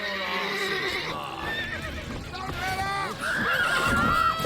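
A horse whinnies sharply in The Witcher 3: Wild Hunt on PS5, with clip-clopping hooves and a voice talking over the neighing.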